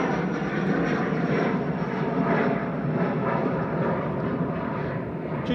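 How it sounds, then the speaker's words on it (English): Loganair Embraer ERJ145 jet departing Manchester Airport for Aberdeen, a steady loud broadband engine roar that holds throughout without pause. "GS8JN departing there back to Aberdeen with flight 28 for Logan Air, ERJ145"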